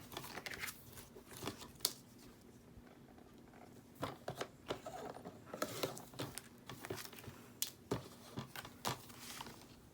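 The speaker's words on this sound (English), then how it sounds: "I'm gonna go ahead and just trim it off. Trim off the plastic." Scissors trim plastic off a bookmark during a craft project, giving a string of quiet, close snips and clicks in an irregular rhythm against a faint, hushed room.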